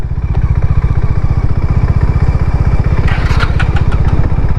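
A Hero Maverick 440 motorcycle rides off-road with a loud, close, rapidly pulsing engine thrum that holds steady throughout, alongside some faint clatter near the end.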